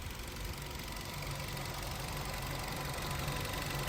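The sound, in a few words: BS-6 car engine idling after throttle body cleaning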